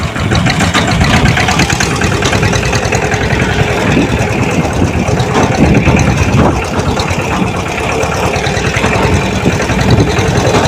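A loud tractor engine runs steadily throughout, a dense low rumble with rattling texture and no pauses.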